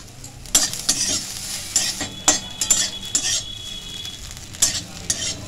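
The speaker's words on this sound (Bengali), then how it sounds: "সোয়াবিনগুলো ভাজা হয়ে গেছে, নামিয়ে নিচ্ছি।" Soybean chunks fry with a pinch of salt in a pan, sizzling steadily while a utensil scrapes and clinks against the metal in irregular stirring strokes, close and fairly loud.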